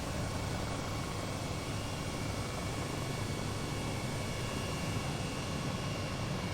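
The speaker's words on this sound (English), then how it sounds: "this helicopter is flying so fast." Helicopter speeding along in Microsoft Flight Simulator over Tokyo, a steady, dense rotor and engine roar that fills the whole stretch without change, no voices.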